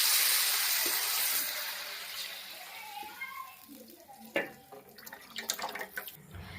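Soaked tamarind pulp pours in a steady wet stream into a big pot of Telugu-style fish pulusu made with five kilos of bocha fish, then tapers to splashes, drips and light clinks.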